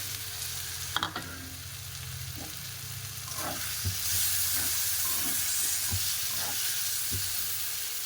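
Marinated mushrooms hit fried spice masala in a pan, setting off a loud sizzle that builds and stays steady, broken by spoon knocks and stirring taps against the pan.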